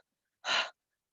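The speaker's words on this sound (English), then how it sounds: "you can do a little bit of quick breathing through your mouth" One quick, sharp breath drawn through the mouth during a yoga energizing exercise, brief and fairly close, with the start of another breath at the very end and no talk.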